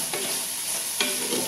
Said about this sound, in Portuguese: Vou pegar uma espátula. E vou dar uma refogadinha aqui.